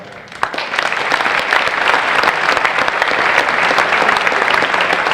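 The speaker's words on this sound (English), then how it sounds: "let's have a nice round of applause for all of our inductees" A crowd at a Sachem Hall of Fame induction ceremony gives the inductees sustained, loud applause, thick even clapping that swells in within the first half second and holds steady to the end.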